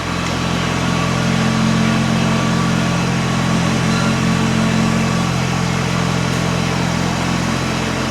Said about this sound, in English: I'm going to start the tractor.